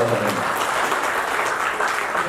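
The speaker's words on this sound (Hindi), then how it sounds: "जोरदार तालियों के साथ में स्वागत करें।" Loud, dense audience applause welcoming a speaker at an event, a continuous wash of clapping right from the start with some voices mixed in early on.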